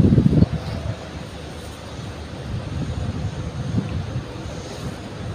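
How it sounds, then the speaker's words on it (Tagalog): Strong wind buffets the microphone in a continuous low roar, with a heavier gust at the start and no voices. "Yung lakas ng hangin."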